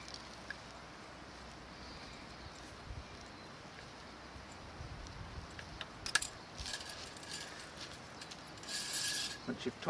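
A Strainrite XT1 ratchet strainer is cranked to tension fencing wire, giving soft irregular mechanical clicks and creaks that grow busier toward the end over faint outdoor wind.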